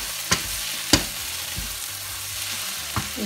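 A well-roasted masala fries in a pan with a soft, steady sizzle, punctuated by three or four distinct spoon knocks against the pan spaced about a second apart.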